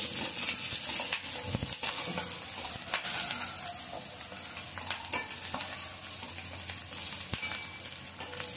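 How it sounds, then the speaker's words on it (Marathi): Continuous sizzling of spice tempering in hot oil, with occasional stirring clatters, fairly close and steady throughout. "फोडणी छान करून घ्यायची"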